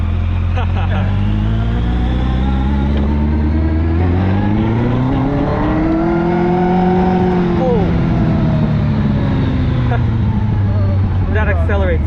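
A low-slung Westfield Seven sports car, a Caterham/Lotus Super Seven replica, accelerates hard with its engine note rising steadily through the gears, loud and close from the passenger's seat, while people talk over the engine.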